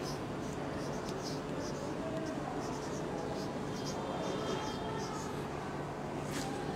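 Chalk or marker scratches across a classroom board in short strokes, faint under steady background hum and a speaking voice.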